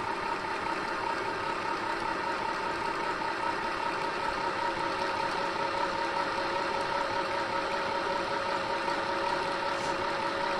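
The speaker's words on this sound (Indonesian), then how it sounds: "Kita akan menggulung benang." Portable sewing machine motor winding thread onto a bobbin, a steady even whirring drone held at a constant pitch for about ten seconds, moderately close with no talk.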